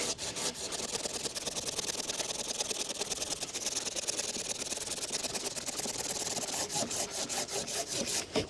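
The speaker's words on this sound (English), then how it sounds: "Nice bit of willow. Let's see how quickly we can cut it, shall we? And bearing in mind, it is wet wood." A handsaw cutting through wet willow wood makes fast, continuous rasping strokes, close and fairly loud with an even rhythm throughout.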